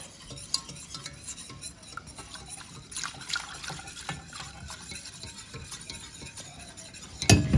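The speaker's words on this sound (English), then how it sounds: "We're going to give that a good whisk up. Get all our lumps out." A whisk stirs milk sauce in a bowl to break up lumps for cannelloni, producing continuous scraping and sloshing with light metallic clicks that finish in a louder clatter, heard close with no speech.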